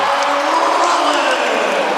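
A volleyball arena crowd cheers and roars loudly and steadily throughout, dense continuous noise with scattered whoops, at a Wisconsin at Minnesota match.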